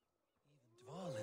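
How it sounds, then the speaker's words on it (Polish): A wolf in the Assassin's Creed Valhalla video game lets out a rising, drawn-out growling howl that swells from faint to loud within about a second. "No i słyszę gdzieś tutaj wilka."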